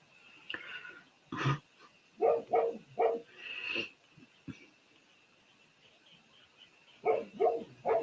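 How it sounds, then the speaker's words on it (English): A dog barks loudly outdoors in a yard where rabbits and deer pass, giving a single bark, then a run of four rapid barks, a longer yelp, and a final burst of three barks after a quiet pause. "He's either barking at the bunnies, because we have a lot of rabbits in our yard"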